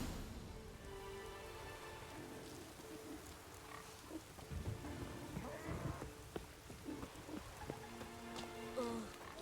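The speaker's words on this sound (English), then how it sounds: "Oh, raining again." Steady rain falls across a village in The Witcher 3: Wild Hunt, a dense hiss of droplets behind game music with scattered sharper hits and faint talk.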